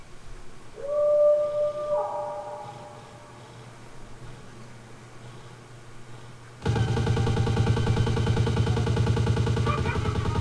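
Ghost wolves in the Vampire The Masquerade Bloodlines video game let out a rising, wavering howl near the start that fades away. A loud, dense burst of machine-like noise cuts in partway through and drowns everything after.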